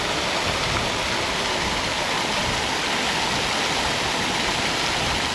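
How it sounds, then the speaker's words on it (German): A short water riser sound effect built from recordings of flowing water, a dense, steady broadband rush like a stream or small waterfall, loud and continuous with no voices. "Ich mache noch einen kleinen Wasserriser."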